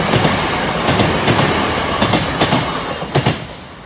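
A train rumbles loudly past Boultham level crossing with a continuous roar, rhythmic clickety-clack from the wheels and faint squealing, sustained close by from start to finish.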